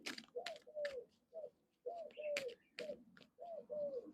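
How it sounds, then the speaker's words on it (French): Turtle doves coo in a repeating rhythmic pattern, soft, moderately close calls in paired phrases separated by brief pauses, with faint clicks and rustles between them. "et les tourterelles sont de la partie."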